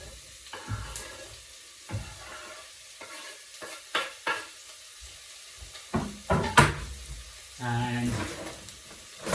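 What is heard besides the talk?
leeks frying in olive oil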